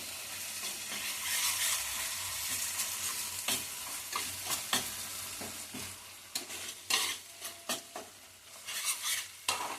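Dum aloo masala made without onion or garlic is stirred in a sizzling pan, giving a soft steady hiss broken by repeated scraping strokes that grow more frequent toward the end.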